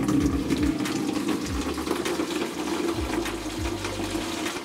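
Water pours continuously into a hot water tank in a Russian banya, a steady gushing flow with a few low thuds underneath, close and moderately loud throughout.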